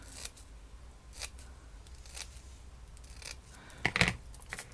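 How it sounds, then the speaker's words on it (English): Small scissors make little snips into tissue paper to cut a fringe, with a few short crisp cuts that are quiet and close, the clearest one near the end. "And now I'm just going to make a little fringe just by doing little snips."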